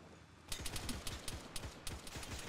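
Rapid bursts of automatic gunfire in Arma 3 on Altis, a string of sharp cracks in quick succession at moderate distance with no talk over them.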